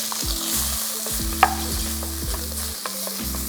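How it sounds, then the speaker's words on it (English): Shrimp frying in hot oil in a wok, a steady close sizzle with a faint stirring clink, while a low mechanical hum pulses underneath. "Take your wok, add in some oil, and we're going to fry the shrimp for about 30 seconds."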